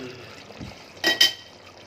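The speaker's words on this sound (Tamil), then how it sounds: "பாதம் இதெல்லாம் ஊற்றிக்கிறேன்." Ground almond and cashew paste poured into a cooking pot gives a brief wet splash and slop about midway, quiet and close, with faint background noise around it.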